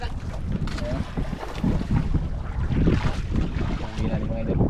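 A small fishing boat's engine rumbles steadily on open water as the boat circles, with wind buffeting the microphone throughout; no clear speech rises above it.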